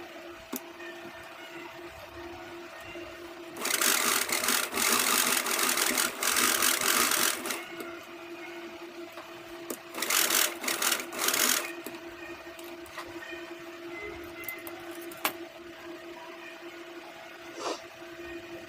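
A sewing machine stitches blouse fabric in two rapid runs of a few seconds each, a close, steady mechanical whir with quieter pauses and faint handling between bursts.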